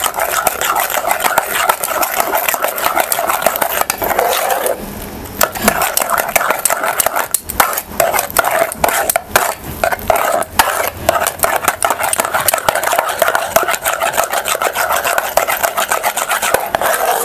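Grated mixture and powdered sugar are beaten together in a bowl, producing rapid, continuous rasping and scraping strokes close up with a short pause partway through.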